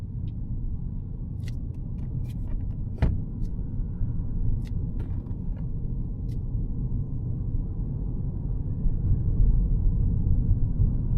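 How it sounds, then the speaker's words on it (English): A car driving on a road near the Logan driving test centre in Queensland gives a steady, low engine and road rumble with little change, heard from inside the vehicle and with a few faint clicks on top. "So I'm gonna go ahead and slow the car down a little bit."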